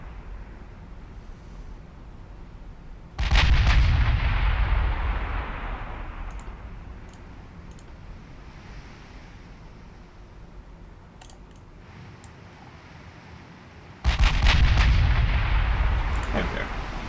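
Warship guns firing in Ultimate Admiral Dreadnoughts, two heavy booming salvos several seconds apart, each with a long rumbling decay over quieter ambient game sound.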